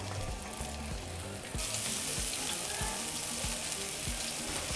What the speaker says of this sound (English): now we're going to grill our chopped onion and jalapenos.